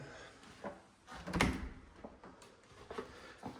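A pocket door in a 1970s-era house in Albuquerque slides along its track and thuds shut in one soft, brief movement, with faint handling noises before and after in a quiet room.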